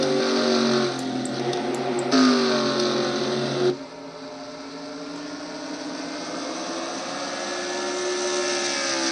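Stock cars roar in a Nationwide Series racing video game at a Goody's Mid South 250 event. A loud, sustained engine drone shifts abruptly in pitch and tone twice as the view changes, then settles into a steadier, slightly rising whine.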